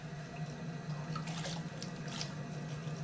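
A wet sponge is worked over a 22-inch clay platter spinning on a potter's wheel, giving a soft, close, steady watery wiping with a low motor hum underneath.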